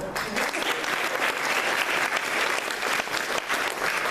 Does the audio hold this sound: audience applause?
yes